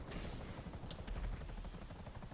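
A helicopter in GTA Online gives a steady, loud rotor thump and engine whine that continues throughout, with no voices.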